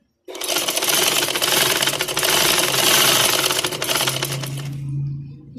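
A sewing machine stitches lace onto a garment neckline in a loud, steady, close run of rapid needle strokes that starts abruptly, holds for about four seconds, then winds down.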